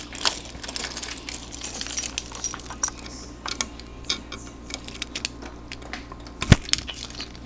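A ring of metal keys jangles and clinks while being handled near a M1 Garand rifle, with irregular small clatters close by and one sharper knock.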